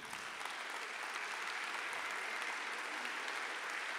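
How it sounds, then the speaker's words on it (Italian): Sustained applause from a museum audience at a concert event, steady and dense for the whole stretch with no talking over it. "vi chiedo un applauso"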